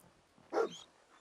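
Dogmeat, the dog companion in the Fallout video game, lets out a single short bark, moderately loud against quiet background ambience.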